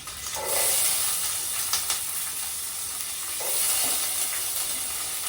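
Sliced onion and long-cut green chillies sizzle and hiss steadily in a hot pan for a chickpea curry, with a couple of brief stirring scrapes and no talking.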